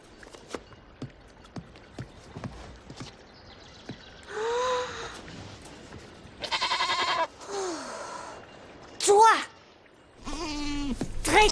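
A goat bleats several times in a storybook setting: wavering cries come in short bursts between hollow knocks and footstep-like taps, fairly close and clear, with quiet gaps between the calls.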